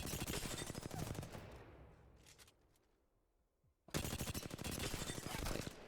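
Rapid automatic weapon fire in Apex Legends, a loud sustained burst, a quieter pause with a few trailing shots, then another close, steady burst of fire.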